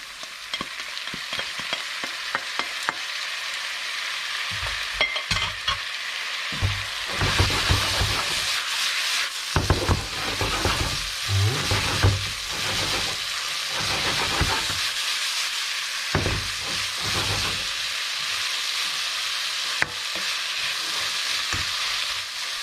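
Potatoes and red pepper fry in a hot pan for a beef spring roll filling, giving a steady, close sizzle broken by frequent scraping and clattering stir strokes throughout, with no talking.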